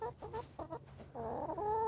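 Several backyard chickens cluck close by in short bursts, then break into a steadier, louder run of clucking and squawking, with no talking.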